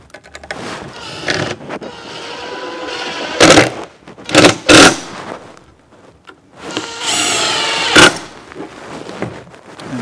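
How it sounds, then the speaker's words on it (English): Cordless drill fitted with a countersink bit boring holes into the roof of a wooden bluebird house, several short loud high-pitched whirring bursts separated by pauses and handling noise, close to the microphone. "with a drill equipped with a countersink, just by sight, I drill the countersink holes like this"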